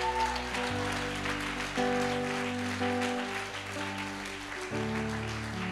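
Applause from a church congregation, a steady broadband patter of clapping that sits under sustained keyboard or organ chords and carries on throughout.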